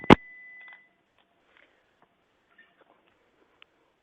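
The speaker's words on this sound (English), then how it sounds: "Is there something beeping on your side?" A sharp click opens a short, high electronic beep, followed by a few faint scattered ticks in near silence.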